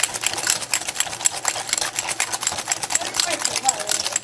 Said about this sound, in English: I'm just going to continue whisking till the consistency is right